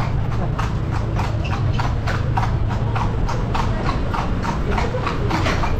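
Horse hooves clip-clop in a steady, even rhythm as a horse-drawn kalesa rolls through the streets of Intramuros, Manila, loud and close, with faint background noise beneath.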